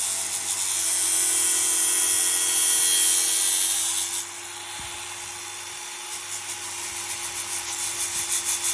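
A power grinder shaping crown molding wood, a loud steady high-pitched whine that runs continuously, then drops sharply in level partway through as the tool lightens, leaving a softer, pulsing buzz.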